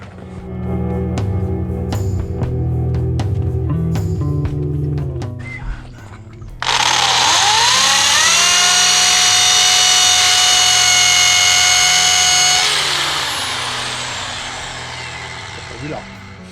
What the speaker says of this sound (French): on retire tout, on fait les perçages définitifs